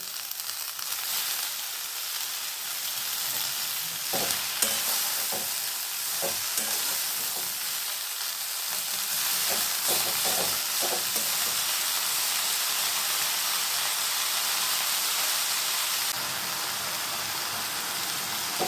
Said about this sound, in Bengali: এখানে শাকটা বেশ খানিকক্ষণ ভালোভাবে নাড়াচাড়া করে নিয়েছি